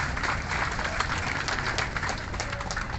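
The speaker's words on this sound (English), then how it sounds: "let's give a round of applause to our awardees" Outdoor audience applause for awardees at a Rizal Day celebration in Plaza Libertad, Iloilo City, a steady, dense wash of many hands clapping at moderate distance, with no voices standing out.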